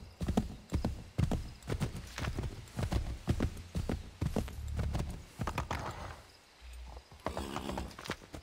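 Hooves clip-clop in a brisk, steady rhythm as a horse is ridden along in Assassin's Creed III, close and clear with occasional mechanical tack rattles and a brief whinny-like tone near the end.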